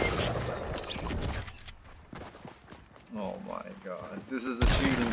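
Gunfire in the video game Fortnite: a burst of rapid shots at the start, then scattered distant pops under a man and woman chatting, with game sound effects near the end.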